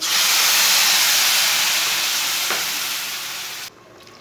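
Two cups of water poured into a hot pan of browned roasted semolina hiss and sizzle loudly for about three and a half seconds, then the sound cuts down sharply to a quieter bubbling.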